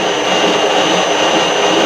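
A loud, steady machine whir with a high hum from a metal lathe spinning at about 130 rpm while machining an ER32 collet holder, continuous and close.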